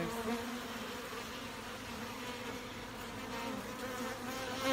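Honey bees buzz around an opened hive frame, a soft, steady droning hum of many wings close by with slight swells in loudness.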